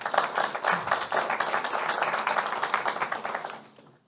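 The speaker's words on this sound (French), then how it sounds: "je vous propose de l'applaudir." Brief applause from a conference audience welcoming a speaker at a French-language event on financing innovative solutions, a dense patter of many hands at moderate volume that fades out after about four seconds.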